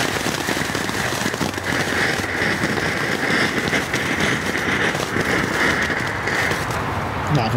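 A Silver Sky consumer firework going off with a dense, continuous crackling and sizzling that stays loud and close throughout.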